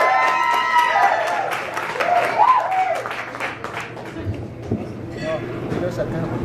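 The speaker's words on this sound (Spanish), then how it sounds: "vamos a darles un fuerte aplauso" An audience at a band showcase in a small club claps and cheers loudly, with voices shouting over the applause and a low hum underneath.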